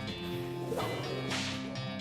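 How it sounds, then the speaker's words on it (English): A snake whip lashes out during a turn-based fight in the video game West of Loathing, a single sharp crack-and-swish burst rising from a steady background music bed, with no talking. "Actually, I'm gonna do Snake Whip first."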